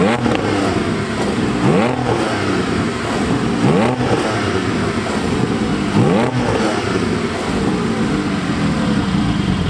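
A loud Porsche GT4 sports car with a new Milltek exhaust, valves open, revs repeatedly, rising and falling in pitch several times with a harsh, raspy roar throughout.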